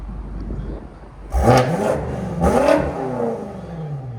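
BMW X6 M Competition tuned to about 900 hp with downpipes and Vibrant resonators, two sharp close exhaust revs that flare quickly and settle back to a smooth deep idle between blips.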